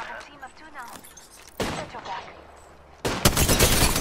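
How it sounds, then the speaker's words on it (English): Bursts of gunfire in Apex Legends, from scattered shots to a loud rapid volley at the end, mixed with game effects while a player talks over them. "Another one shooting at me"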